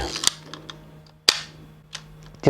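Sharp metallic shutter clicks from a mirrorless camera with no curtains or mirror, three or four crisp isolated snaps spaced about a second apart, close and fairly loud.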